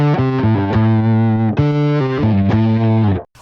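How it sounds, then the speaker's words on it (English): Bass guitar through an overdrive distortion pedal with EQ, a loud, gritty, sustained bass line of several distinct notes played alone, ending abruptly. "I'm really just getting that overdrive sound."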